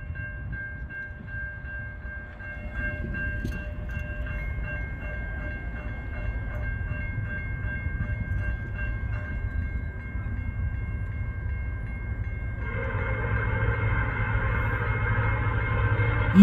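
A CN freight train led by an EMD locomotive passes a grade crossing in Ladysmith, sounding a Nathan P5 horn in long sustained blasts over the heavy rumble of the engine and wheels, growing louder as it approaches.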